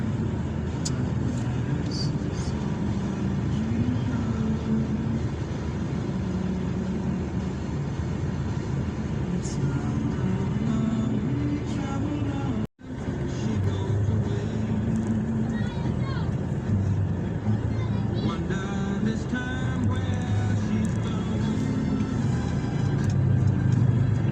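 Cars pass along a busy street in a steady, continuous wash of road noise. People talk over the traffic throughout.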